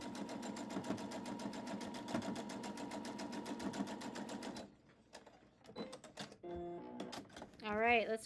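Sewing machine stitching a scrappy postage-stamp pear quilt block, a steady rapid mechanical chatter for several seconds that then stops, followed by brief clicks and handling noises and a person talking.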